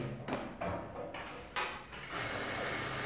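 A Jack sewing machine runs at a limited, controlled speed, making a close, steady mechanical whir with a few short rattling bursts before it settles into continuous running.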